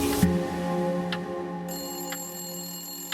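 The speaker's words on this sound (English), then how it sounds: "Not long after, the phone rang." A telephone rings late at night in a quiet room, a steady electronic ringing tone with a brief sharp tap near the start, sustained throughout and fairly loud, with no voices.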